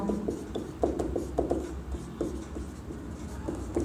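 Chalk or marker writing on a board during a chemistry lecture, a run of short scratchy strokes and taps in an uneven rhythm, close and moderately loud, with no talk over it.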